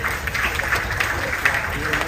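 An audience claps in a round of applause at a Ramayan yagna gathering in a temple, a dense, steady patter of many hands, with a voice speaking over it.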